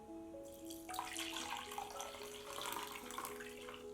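Rice soaking water strained and poured into a spray bottle, a steady trickling and splashing stream running the whole time, close and moderately loud with faint tonal ringing.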